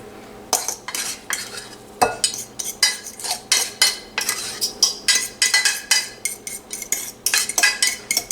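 Crushed potatoes for cod fish cakes being scraped into a bowl, a run of quick rhythmic scrapes and taps of a utensil against the dish, close and fairly loud, with no talking.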